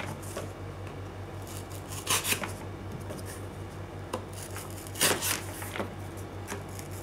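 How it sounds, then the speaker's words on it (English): A hand file enlarging mounting holes in a small model part, soft repeated rasping strokes in short irregular bursts over a low steady hum, close and quiet, no talk. "I'm going to enlarge these holes here"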